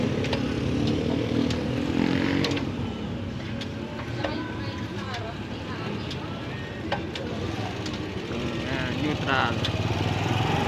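A motorcycle engine runs steadily close by while gears are shifted after a tune-up for a rotation problem, a continuous mid-range drone with small shifts in pitch and light clicks, and a person talks over it at times.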